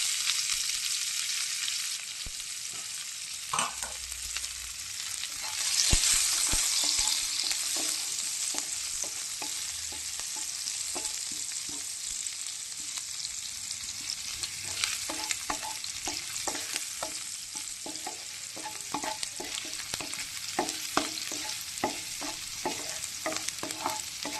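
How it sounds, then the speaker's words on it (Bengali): Onion and garlic frying in a pan of oil for spinach, a sustained bright sizzle with frequent rhythmic clicks and scrapes of a spatula stirring. "পেঁয়াজটা ভাজা হতে থাক, রসুনটা ভাজা হতে থাক"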